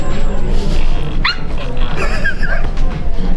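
A dog at a crowded gala event gives a brief yip amid constant loud crowd chatter and music, the bark short and partly buried in the noise.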